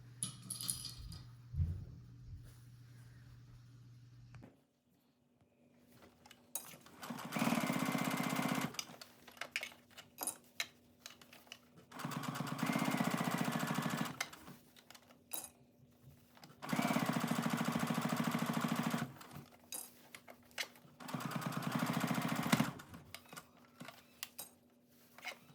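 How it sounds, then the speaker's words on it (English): A sewing machine stitches the sleeves onto a windbreaker in four loud, steady whirring runs of a few seconds each, separated by quieter pauses with small handling clicks, close and without talking. "Now we can go sew these sleeves on."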